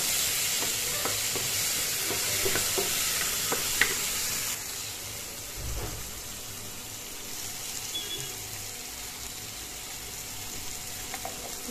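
Tomatoes frying with panch phoron in a pan for a rui fish curry: a steady, close sizzle with stirring clatters in the first few seconds, then a softer continuous hiss with no talking.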